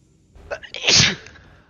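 A single loud, sharp human sneeze, close to the microphone, with a short breathy intake before the burst, heard during a two-player GTFO co-op gaming session.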